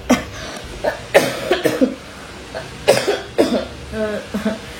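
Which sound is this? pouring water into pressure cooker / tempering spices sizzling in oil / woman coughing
woman coughing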